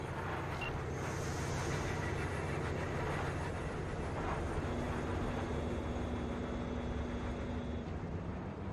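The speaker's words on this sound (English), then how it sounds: "All right, the train's leaving." A train pulls away in the video game Cyberpunk 2077, a steady broadband rumble with a sustained mechanical drone and a brief tonal whine, continuous and loud throughout with no talking.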